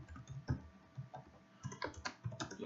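Code being typed on a computer keyboard, a fairly quiet, close series of irregular key clicks in short bursts with brief pauses between them.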